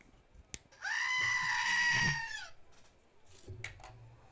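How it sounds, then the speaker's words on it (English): A pet goat gives one long, wavering, high bleat indoors, loud and close, set between a few sharp knocks and faint background sounds. "I don't know if you guys could hear my goat"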